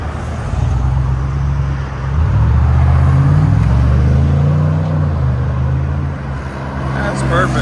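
Deep, steady exhaust drone from a 2023 Cadillac Escalade 600 with a 6.2L V8 and Borla S-Type exhaust, loud and close, swelling slightly as it pulls away amid Nashville street traffic, with no talking.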